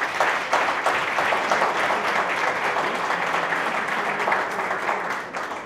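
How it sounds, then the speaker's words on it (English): Steady applause from an awards gala audience fills the room, a dense, even wash of clapping that holds for several seconds and then begins to taper off near the end. "I'd like you to join your hands in applauding them tonight"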